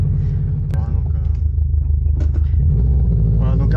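A Subaru's engine rumbles steadily from inside the cabin while climbing toward a mountain pass, a low, throaty drone with slight revving, under someone talking throughout.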